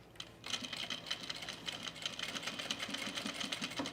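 A sewing machine runs steadily on a scrap of fabric, its fast, even rattle of stitching starting just after a brief pause and carrying on close and clear to the end.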